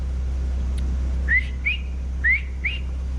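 A person whistles to call an old, hard-of-hearing dog, four short rising whistle notes in two pairs, clear over a steady low hum with no talking.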